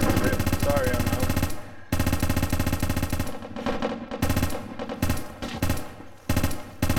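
Rapid automatic gunfire in the America's Army military shooter game, dense rhythmic bursts of machine-gun fire, loud and near, broken by brief pauses, with faint voices underneath.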